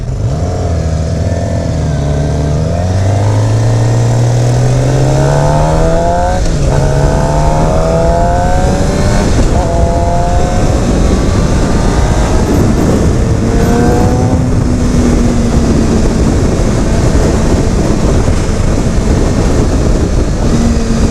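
A 2016 Suzuki GSX-R750 sport motorcycle with a slipper clutch roars loudly while being ridden, its engine note climbing through the gears and then dropping in a series of rapid downshifts, with heavy wind rush throughout.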